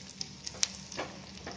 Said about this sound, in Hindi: हरी मिर्ची, सब चीज़ों का तड़का लगाएंगे दाल में